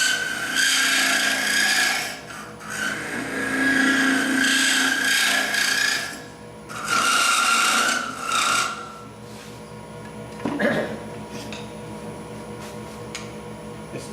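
A wood-turning gouge cuts spinning wood on a lathe with a loud rasping chatter in long sustained passes, broken by short pauses, before the cutting stops and quieter handling noises follow.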